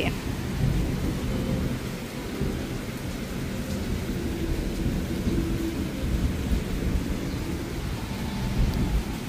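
Steady rain falls with low rumbling underneath, a continuous wet hiss that stays fairly even throughout.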